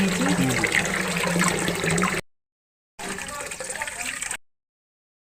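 Dried fish and taki fish are rinsed and washed by hand in water, with sloshing and splashing interrupted by two silent gaps and a voice briefly audible.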